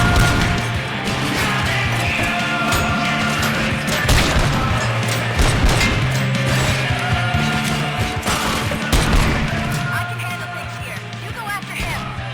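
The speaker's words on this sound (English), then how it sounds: "now I'm going to shoot somebody" Shots fired in Robocop Rogue City amid a busy, dense game mix of crashes and impacts, with bursts of sharp transients spread across the clip and no clear pauses.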